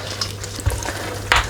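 Lamb curry with cashew paste, mace and nutmeg sizzles in the pan while being stirred, a soft steady fry punctuated by a few scraping stirs and one louder clatter near the end, close by and without speech.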